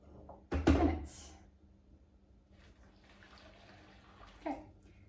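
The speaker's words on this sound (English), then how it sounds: "So I'm gonna put 2 cups of water, hot water" Hot water is poured into a bowl for a taco cooking demonstration in a home kitchen: one short, close splashing gush, followed by quiet room sound with faint handling noises.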